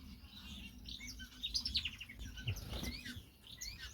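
Small finches and a weaver finch in a backyard aviary chirp and tweet in quick, scattered bursts, with a cluster of bright calls midway over a low background hum.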